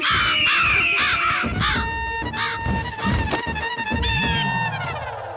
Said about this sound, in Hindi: आप लोग आंखें खोलिए, कौवे आ रहे हैं।